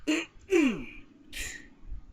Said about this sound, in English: Wataru let out a frustrated cough and cleared his throat.